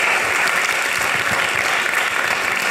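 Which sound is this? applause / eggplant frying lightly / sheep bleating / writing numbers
applause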